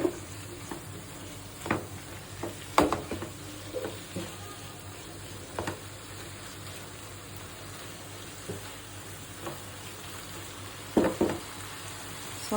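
Noodles with plenty of green chillies being stir-fried in a pan, a soft continuous sizzle with sharp scraping and tossing strokes from the spatula at irregular intervals, fairly quiet and without talk.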